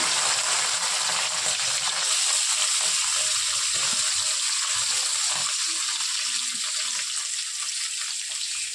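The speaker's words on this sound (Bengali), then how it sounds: "সব গরম তেলের মধ্যে দিয়ে দিচ্ছি" Chickpeas fry in hot oil in a pan on a gas stove, making a steady, loud hissing sizzle with light crackling throughout and no talking.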